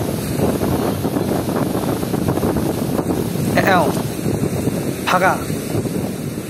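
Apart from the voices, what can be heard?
flowing river water and cool wind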